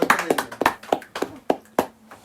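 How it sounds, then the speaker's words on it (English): A few podcast hosts and guests clap in a small, loose round of applause, with about eight distinct, close hand claps in an uneven rhythm. "Y'all give a round of applause"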